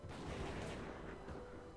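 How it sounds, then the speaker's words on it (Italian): Rifle shots at a zombie in the video game Dead Age 2, a short burst of dense, loud crackling fire filling the whole moment, with no talking over it. "Io sparo a Bitten Farmer."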